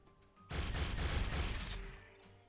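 A sudden loud burst of video game gunfire in Star Wars Rebels, a dense volley starting abruptly and fading out over a couple of seconds, heard alone without talk.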